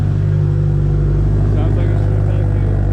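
A car engine idles steadily after a repair, with a loud, close, even drone that holds constant throughout.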